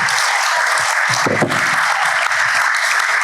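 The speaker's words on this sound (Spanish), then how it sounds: "un aplauso, por favor" An audience at Colegio Elim Norte in Guatemala applauds in a continuous hiss of clapping, fairly loud and even, with a few low thumps under it.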